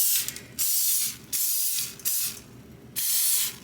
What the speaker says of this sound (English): I just put it on a foil that I sprayed with olive oil spray